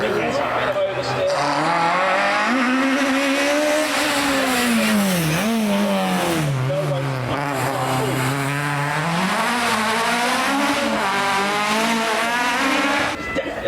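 Rally car at the Prescott Speed Hill Climb, its engine loud and close, revving and rising and falling through gear changes with tire squeal, while a commentator talks over it.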